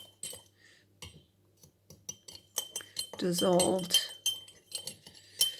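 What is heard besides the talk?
stirring salt into water in a glass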